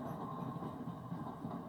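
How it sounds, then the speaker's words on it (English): A train rumbles past steadily in the background, a continuous low roar with faint rail clatter and no pauses. "Sorry for the train, it gets loud at times."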